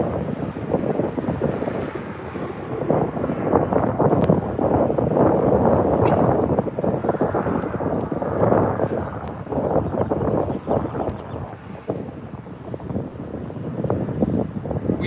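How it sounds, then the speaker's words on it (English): Southwest 737-700 jet taxiing at LAX toward Terminal 1, a continuous broad engine rumble and whine mixed with heavy wind buffeting on the microphone, steady throughout with no talk. "We've got a Southwest 737-700, that one earlier that just came in from Sacramento, taxiing quite quickly down to Terminal 1."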